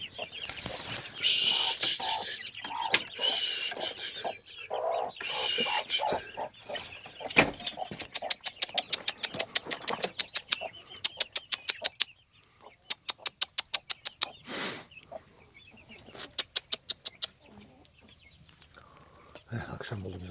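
Young chicks being fed cluck and cheep close by over a fast run of sharp clicking pecks, with voices talking softly at times.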